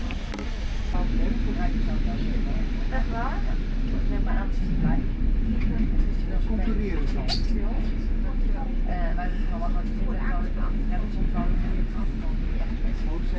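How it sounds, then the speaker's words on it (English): A low rumbling ride on a half-century-old decommissioned passenger train pulling into Amersfoort, Netherlands, with steady rail clatter and engine drone, voices talking over it throughout. "As the train slowly pulls into Amersfoort, we reach our final stop"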